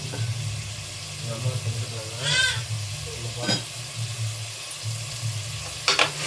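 Mutton frying in a pan with turmeric and rock salt, a steady low sizzle broken by a few scraping stirs near the end. Speech is faint or absent over the cooking.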